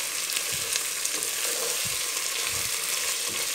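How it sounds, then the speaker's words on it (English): Chopped onions sizzling in hot oil in a pan for pulao: a dense, steady crackling hiss with small pops, close and continuous, with faint soft stirring thumps underneath. "Let's fry it until it becomes translucent."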